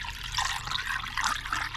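Coolant pours into a Kia Soul or Forte cooling system after a thermostat replacement, a close, steady gurgling trickle of liquid filling the reservoir.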